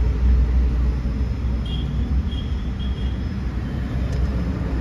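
Maruti Swift Dzire with a CNG kit idling with the AC on, a steady low engine rumble close by with an even, unwavering hum and faint high whine.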